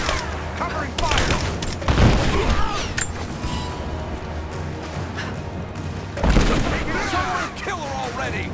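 Gunfire in the video game Rise of the Tomb Raider, with loud bursts and booming shots around two and six seconds over a busy battle din. Enemy voices shout through it.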